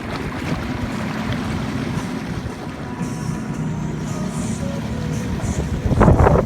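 Sea-Doo personal watercraft running fast along a creek near Beaufort, a constant roaring engine and water-rush drone mixed with wind buffeting the microphone, steady and loud throughout and swelling near the end.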